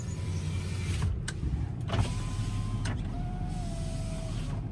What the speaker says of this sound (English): Test the windows.